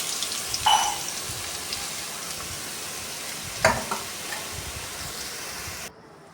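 Steady sizzling as bottle gourd fries with dried red chillies in a pan, with a couple of sharp clinks of a utensil, no voices, ending abruptly.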